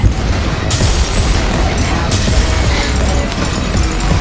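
Rapid, continuous gunfire and dull booms from the survival video game Doomsday Last Survivors fill the moment, loud and dense with sharp bursts standing out.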